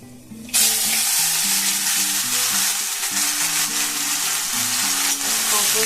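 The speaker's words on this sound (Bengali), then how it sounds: "এটাকে খুব ভালো করে মিশিয়ে আমি ভেজে নেব" Ground green pea paste with chillies drops into hot oil with black cumin and bursts into a loud, steady sizzle, with stirring in the pan, close up and without speech.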